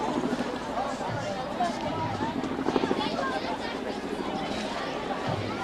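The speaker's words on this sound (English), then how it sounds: "Yeah, I'm hearing a helicopter myself." A helicopter drones steadily in the distance beneath a busy crowd and chatter at a high school football game, its rumble blending into the background noise.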